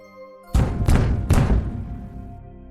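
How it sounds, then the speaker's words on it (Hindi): Fists pound on a locked door in three heavy, booming thuds about half a second apart, loud and close, each ringing out briefly before silence returns. "आर्यन और पूजा दरवाजा जोर जोर से पीट रहे थे"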